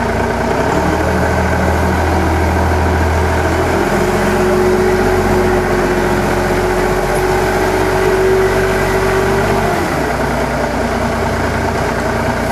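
A used Japanese forklift's engine runs steadily at idle and low speed inside a cramped workshop, a continuous close, loud mechanical hum with a brief pitch rise midway, no talking.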